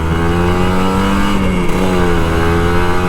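A two-stroke Kawasaki Ninja RR 150 motorcycle engine revs loudly nearby, its buzzy, high-pitched drone rising and falling in pitch for a few seconds.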